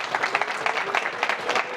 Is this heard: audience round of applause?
yes